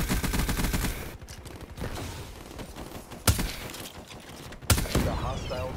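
Call of Duty Black Ops III gameplay: rapid automatic gunfire rattles in dense bursts, broken by a few sharp louder shots, with a voice talking over parts of it.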